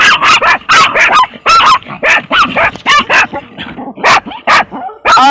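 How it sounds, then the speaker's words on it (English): Several dogs bark and yip loudly and close by indoors in rapid irregular bursts, with a few whimpers mixed in. "Sorry for the barking in your ear."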